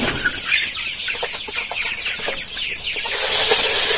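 A flock of broiler chickens in a heated poultry shed keeps up a continuous chorus of clucking and chattering, fairly close and dense, with a hissing wash rising toward the end.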